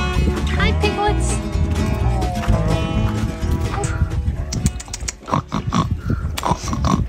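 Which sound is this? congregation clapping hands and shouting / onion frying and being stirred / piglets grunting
piglets grunting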